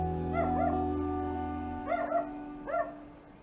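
Dogs in the Vietnamese countryside give three short yipping, whimpering barks at about 0.5, 2 and 2.8 seconds, moderately close, over a steady low hum and background drone.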